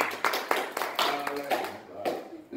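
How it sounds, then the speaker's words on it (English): Hand claps from a church congregation during a Sunday evening service, a handful of sharp claps spread over a couple of seconds amid room reverberation and faint voices. "I'll give the Lord a hand clap,"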